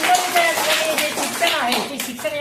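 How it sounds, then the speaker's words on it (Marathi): A group of schoolchildren clapping for a classmate at a primary school, quick scattered claps over a short burst, mixed with voices and cheerful talk. "टाळ्या वाजवा तिच्यासाठी"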